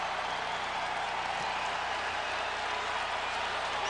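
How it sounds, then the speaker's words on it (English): A basketball arena crowd at an Iowa State versus Creighton college game roars after a slam dunk, a dense, steady wash of cheering and applause that holds at an even level throughout. "Stinnett, slams it home, and the crowd comes alive here at West Center"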